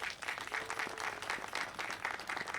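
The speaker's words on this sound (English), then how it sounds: "please help me give them a round of applause" Applause from the audience at a ribbon cutting ceremony for a day center, steady crowd clapping filling the whole moment at moderate volume with no talk over it.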